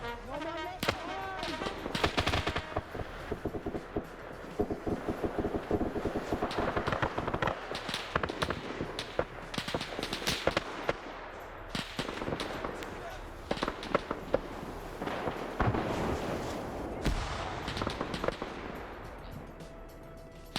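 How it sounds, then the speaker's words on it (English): Soviet grenade exploding amid dense gunfire in a Raate Road battle scenario in a video game, with continuous rattling shots and sharp bursts throughout, loud and busy, while people talk over the action. "That was a Soviet grenade being thrown in"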